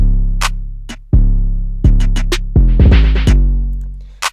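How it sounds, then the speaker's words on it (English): A programmed hip-hop beat heavy on deep 808-style bass hits, with sharp snare strikes and a quick rattling snare roll near the end, loud and close with no voices. "Got the snare roll at the end as well,"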